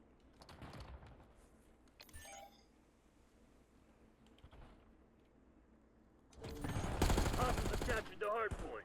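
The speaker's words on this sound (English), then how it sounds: "I just shot because I thought they were by the door" Call of Duty ranked Hardpoint gameplay, with a loud, rapid burst of automatic gunfire late on after quieter stretches of a few isolated shots and game noise, while a player talks over it.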